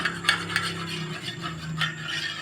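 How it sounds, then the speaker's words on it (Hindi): Egg and milk being mixed in a plate for sweet egg bread, a utensil clinking and scraping against the plate in quick, uneven strokes over a low steady hum; fairly quiet and close. "प्लेट में थोड़ा सा एग डाल लूंगी इस तरह से। अब इसमें हम डाल देंगे थोड़ा सा दूध। ये देखो, अच्छी तरह से मिक्स कर लेंगे।"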